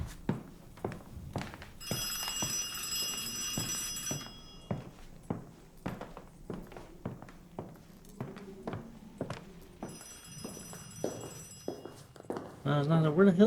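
An old telephone bell rings in bursts in the horror game Ad Infinitum, two long ringing spells separated by a pause, over steady heavy footsteps, with a voice speaking quietly.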